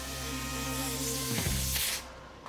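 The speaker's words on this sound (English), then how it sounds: "because it's such a thin spray, I'll let it sit for about 3 or 5 minutes, and then I'll put another coat on it" A thin spray coating hisses steadily onto a McLaren car, a close, continuous jet of spray lasting about two seconds before it cuts off.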